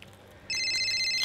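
Mobile phone ringing during a film screening, an electronic ringtone that starts abruptly partway through and then keeps sounding steadily and loudly over a faint background murmur.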